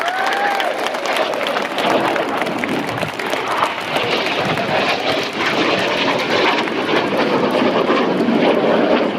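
Red Arrows synchro pair jets roar past at the Royal International Air Tattoo at RAF Fairford, a loud, steady engine rush lasting several seconds with crowd applause mixed underneath.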